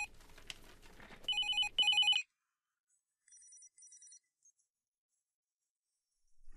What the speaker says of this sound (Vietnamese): Anh Quy, bên ngoài có người điện thoại hoài